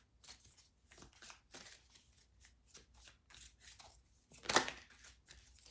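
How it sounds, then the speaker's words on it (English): Tarot cards being shuffled by hand in repeated bursts of dry, papery riffling and rubbing, with one louder, sharper flurry near the end; close and quiet, with no talking. "I'm just going to shuffle until it feels right"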